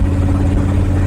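Steady, loud low rumble of a 55 Chevy big block engine cruising at about 2,000 RPM, an even drone heard from inside the car with no voices.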